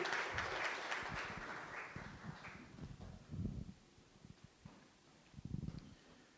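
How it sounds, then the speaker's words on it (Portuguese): Applause from an audience in an auditorium at an ethics and artificial intelligence conference, a burst of clapping that fades into scattered, faint claps and light shuffling. "Peço uma salva de palmas à mesa diretiva"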